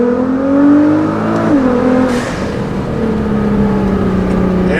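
A tuned 2015 Nissan GT-R with an aftermarket exhaust and blow-off valves accelerates hard from a roll, its engine note rising through the gears with a brief dip at a shift, heard loud from inside the car.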